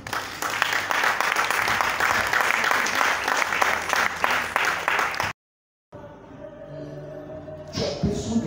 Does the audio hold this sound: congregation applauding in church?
yes